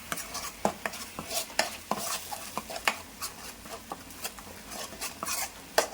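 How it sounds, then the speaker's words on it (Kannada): Mushroom gravy masala is stirred and fried in oil in a pan. A spoon scrapes and taps the pan in an irregular rhythm over a low, continuous sizzle, with no talk. "ಫುಲ್ಲು ಮಿಕ್ಸ್ ಮಾಡಿ ಇದು ಆಯಿಲ್ ಬಿಡೋ ತನಕ ನಾವು ಫ್ರೈ ಮಾಡ್ಕೋಬೇಕು."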